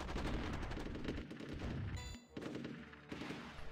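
Tanks come under heavy gunfire from a city and fort in the strategy game Rise of Nations, with dense, continuous rattling shots and bursts, a brief lull, then the barrage resuming loud and close.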